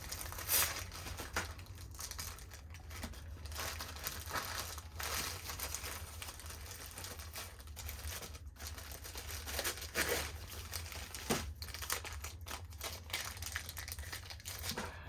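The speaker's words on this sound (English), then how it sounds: "You can just take a piece of sandpaper and fold it over." A piece of sandpaper is folded and handled, giving close, crisp crinkling and rustling that goes on for about fifteen seconds with short scratchy bursts.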